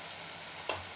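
Ridge gourd with salt, red chili powder and turmeric sautés in hot oil, a steady soft sizzle with one sharp stir or scrape partway through, close by and without talk.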